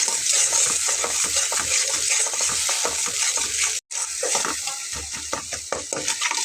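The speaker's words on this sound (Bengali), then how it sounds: "দিয়ে একটু ঘন ঘন নেড়ে নিতে হবে যাতে করে দইটা ফেটে না যায়" Spoon stirring whisked sour yogurt into spiced okra curry in a pan, quick repeated scraping strokes over a constant sizzle, close and fairly loud, with one brief cut near the middle.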